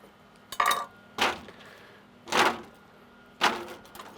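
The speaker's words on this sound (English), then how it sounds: "We're gonna just rough chop some celery." Knife rough-chopping celery on a cutting board, four separate sharp chops spaced about a second apart, close and fairly loud against a quiet room with no talking.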